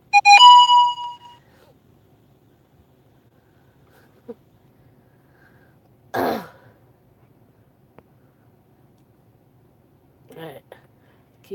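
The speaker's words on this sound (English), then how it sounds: "keep getting notifications. Let me see what these notifications are" A phone notification tone chimes once at the start, a bright layered electronic ring that fades within about a second, followed by long quiet stretches broken only by a few faint bumps and breathy sounds.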